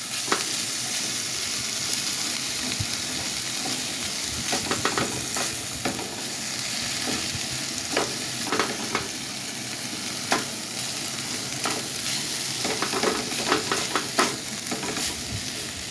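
Hefty pieces of steak for quesadillas sizzling in a pan over an open fire, a steady loud frying hiss broken by repeated clicks and scrapes of stirring throughout, with no talking.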